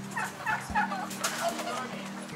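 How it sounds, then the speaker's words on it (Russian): Young turkeys on a small farm give a series of soft, bubbling gobbles, fairly close, over a steady low background hum. "А это индюки."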